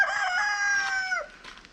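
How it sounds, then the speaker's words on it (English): A rooster crows once, close and loud, a long strained call that drops off sharply at the end. "The rooster doesn't like that it snows."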